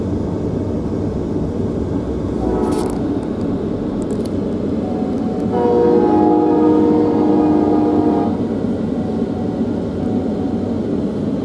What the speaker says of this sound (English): We got our next train.